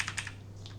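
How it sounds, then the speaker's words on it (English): A few quick keystrokes tap on a computer keyboard, faint and close, over a low steady electrical hum. "So you press Ctrl Z on your keyboard."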